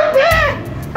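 A dog gives a short run of yips and whimpering barks, close and loud, alone without talk, with one more sharp bark starting right at the end.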